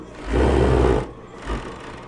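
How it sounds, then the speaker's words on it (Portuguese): An overlock sewing machine runs on blouse fabric in two bursts: a loud, steady mechanical whir for about three-quarters of a second, a brief pause, then a shorter run. "a overlock, ela costuma a puxar o tecido de baixo"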